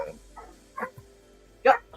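A dog barking in a room, a few sharp separate barks, the last one loudest and close, amid quiet conversation.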